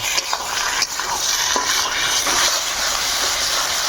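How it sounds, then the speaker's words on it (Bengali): Spice paste of ginger, garlic, coriander, cumin and dry chilli with salt and turmeric sautéing in a pan, a loud continuous hissing sizzle with a few sharp stirring knocks early on. "এবার ভালোভাবে মশলাগুলো কষিয়ে নিব"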